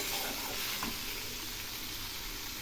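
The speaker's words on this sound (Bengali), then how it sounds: "এই আলুগুলো বেশ কিছুক্ষণ ভেজে নেব। ভাজা ভালো হলে তবেই টেস্ট হবে ভালো।" Small potatoes and spices fry in a pan for a rohu fish-head curry, giving a soft, steady sizzle and hiss throughout with no talk.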